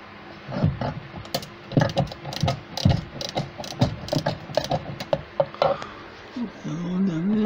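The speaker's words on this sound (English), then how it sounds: "inside there we've got two Allen screws. We need to take those out." Two Allen screws are worked loose from the rear door card of an Alfa Romeo 156, giving uneven clusters of small tool clicks and metallic ticks close by, followed by a soft rustle of handling at the end.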